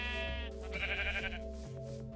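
Sheep bleat in Minecraft, a near, steady bleat over the game's music, followed by a second, shorter call.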